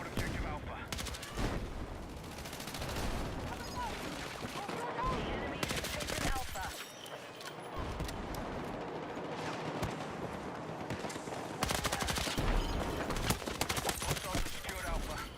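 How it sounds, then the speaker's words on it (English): Sustained gunfire in a multiplayer shooter as a player fires at barricades, dense overlapping shots and bursts running almost continuously, with a brief lull near the middle before rapid fire resumes. "I think I'm just shooting at barricades."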